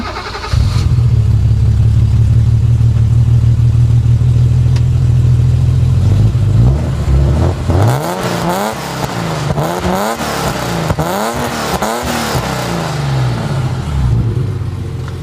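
A first-generation BMW M6 with a European-spec, higher-compression engine of about 286 horsepower idles steadily and loudly, then revs up sharply in about six quick, rising blips close to the microphone. No voices are heard.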